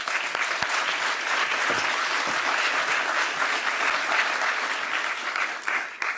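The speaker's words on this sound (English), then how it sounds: "Cybele, let's give her a nice round of applause" Audience applause at a Johns Hopkins Bloomberg Center session in Washington, a dense, steady clapping from a full room that lasts about six seconds before tapering off.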